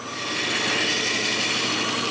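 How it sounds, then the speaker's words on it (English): A big bandsaw with a wide blade cuts through a wooden nutcracker body, a continuous close rasping, rushing whir that holds steady throughout with no talk. "The bulk is cut with my big bandsaw with a wide blade."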